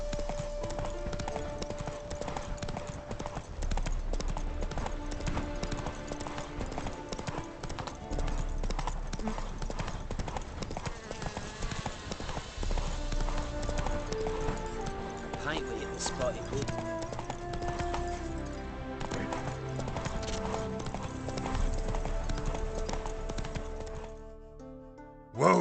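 Hoofbeats of Roach, Geralt's horse in The Witcher 3, clip-clopping steadily throughout over a dense orchestral score, with a voice speaking briefly partway through.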